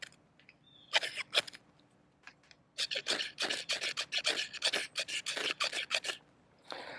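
Kizlyar Supreme Legion knife's partly sharpened false edge scraped hard against a striker to throw sparks, giving a run of close, rapid rasping strokes after a few isolated scrapes, with no talk.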